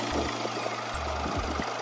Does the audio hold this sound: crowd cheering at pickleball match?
no